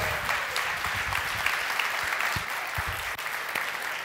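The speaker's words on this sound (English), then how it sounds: "Round of applause for Pierre." A conference audience applauds as speaker Pierre Neis comes up to present on agile transformation, a full, continuous patter of clapping with scattered louder claps and a faint voice under it.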